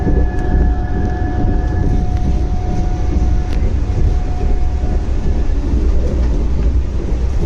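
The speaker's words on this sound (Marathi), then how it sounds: "फायनली ट्रेन स्टार्ट झाली आहे" A Vande Bharat train rolls along, heard from inside, with a steady, loud rumble and clatter, a faint whine rising and fading early on, close and continuous throughout.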